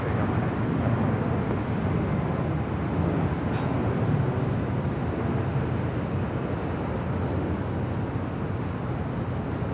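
Steady, loud broadband jet roar of an airliner taking off from runway 25 right at Los Angeles International Airport, a continuous rumble filling the whole clip with no talk.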